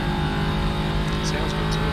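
Steady car engine drone from a Forza racing game, a constant mid-level hum held throughout with a few faint higher blips near the end, under continuous talk.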